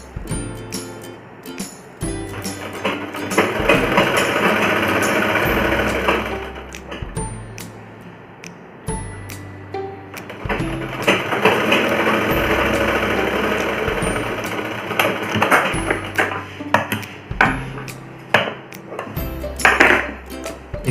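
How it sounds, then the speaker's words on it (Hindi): A sewing machine stitches the side seams of palazzo pants, running in several steady bursts of a few seconds each with short pauses between them, fairly close and with no talking. "इसी तरह दूसरा तरफ भी सिलना है।"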